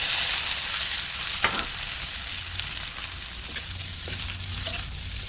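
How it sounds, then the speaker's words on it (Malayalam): Fried squid stirred into a coconut masala in a pan for squid chilli, with steady close sizzling and frying hiss throughout and a few scraping stir strokes cutting through. "അപ്പോൾ നമ്മൾ ഫ്രൈ ചെയ്ത് വെച്ച കൂന്തന്നെയും കൂടെ ഇതിൽ തട്ടി കൊടുക്കാം"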